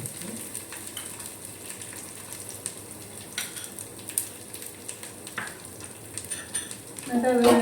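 Onion frying in oil in a pan for masala dosa filling, a soft steady sizzle under intermittent spatula scrapes and taps, close by, with a brief louder clatter near the end and no speech.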